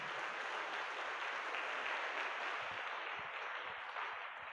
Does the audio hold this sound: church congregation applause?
yes